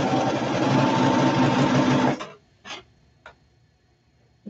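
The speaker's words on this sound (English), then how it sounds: "The nice thing about a serger, too, is it trims as it cuts as well." A serger sewing machine runs steadily as it stitches and trims the edge of a button-front three-quarter circle skirt, a loud continuous whirring hum that stops abruptly partway through, followed by a couple of soft mechanical clicks.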